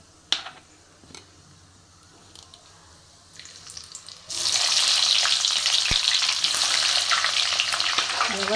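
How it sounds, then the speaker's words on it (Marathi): Sliced onion drops into hot oil with cloves and cardamom for vegetable biryani and bursts into a loud, steady sizzle, after a few quieter clinks and handling sounds at the start. "आता कांदा टाकायचा आहे."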